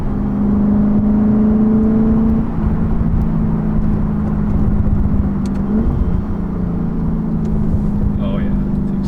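A V8 muscle car driving and cornering, its engine holding a steady droning note from inside the cabin, then dipping and shifting pitch through a turn, with a person talking over it.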